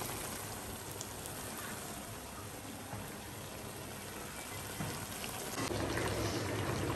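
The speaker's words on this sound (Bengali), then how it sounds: "দেখতে পাচ্ছেন বন্ধুরা কষানো হচ্ছে" Mutton fried with spices in a pan for a spicy red curry with new potatoes, a dense, continuous rain-like sizzle that holds steady and swells slightly louder near the end.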